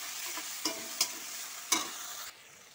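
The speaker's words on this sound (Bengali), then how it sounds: "তো মশলাটা ভালো করে কষিয়ে নিই।" A ginger, cumin, garlic and onion masala paste sizzles in a pan for a prawn curry, a close, bright frying hiss punctuated by three sharp spatula strikes before the sizzle drops away abruptly near the end.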